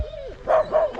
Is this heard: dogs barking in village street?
yes